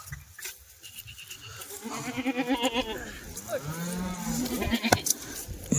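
Kathiawadi goats bleat repeatedly nearby, several wavering calls overlapping one another, with a voice talking over them in a farm shed.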